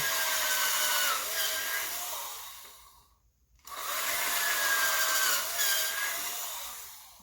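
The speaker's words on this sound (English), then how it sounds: "you're just drilling that shit in there" A power drill whirs steadily into a coconut shell, pausing briefly midway before grinding on again, close and loud with no talking.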